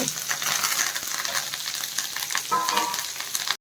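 Onions, green chillies and curry leaves frying in hot oil for an egg roast: a loud, dense crackling sizzle right up close, with a brief metallic clink near the end before it cuts off.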